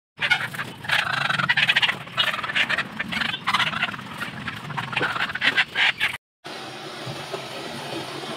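Chickens at a chicken shop cluck and squawk loudly and repeatedly in dense overlapping bursts, with a short gap near the end before a steadier noisy background.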